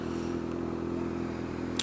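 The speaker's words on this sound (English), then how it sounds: "his exhaust is so loud when people walk by, he just revs it" A Ducati motorcycle with a loud exhaust gives a steady, close engine rumble that holds even throughout, with no distinct rev rise, and a brief sharp tick near the end.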